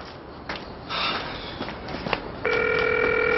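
A telephone rings unanswered in a Korean drama scene, its trilling electronic ring starting partway through and continuing loudly after some rustling and breathy background sounds.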